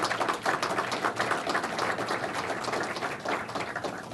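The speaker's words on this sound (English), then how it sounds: "Let's give them a round of applause." Fairly faint audience applause follows speeches, a busy patter of many hands clapping unevenly and continuing throughout without voices.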